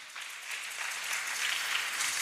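An audience applauds with steady, dense clapping that swells slightly and holds throughout, with no talking over it.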